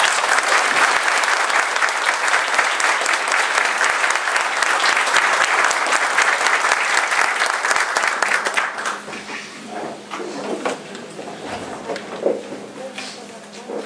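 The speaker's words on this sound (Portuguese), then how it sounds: "Palmas para a vida." An audience breaks into loud, dense applause at a spiritual gathering. The clapping holds strong for about eight seconds, then thins and fades into scattered claps and murmuring voices.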